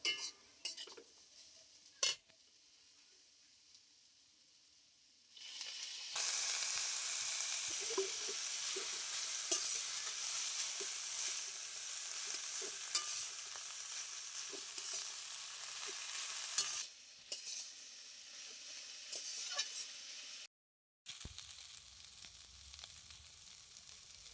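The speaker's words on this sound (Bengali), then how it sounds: "আলু পেঁয়াজটা খুব ভালো করে ভেজে নিয়েছি একই সাথে আমি দিয়ে দিচ্ছি এবারে কেটে ধুয়ে রাখা গিমা শাকটা" Gima greens are stirred into frying potatoes and onions in a kadai. Quiet utensil clinks come first, then a steady close sizzle runs with scattered stirring knocks before fading.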